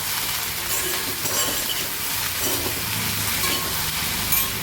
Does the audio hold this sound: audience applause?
no